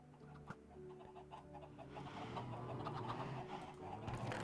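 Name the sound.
chickens clucking on a chicken farm in the video game Minecraft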